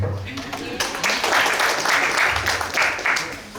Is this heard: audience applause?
yes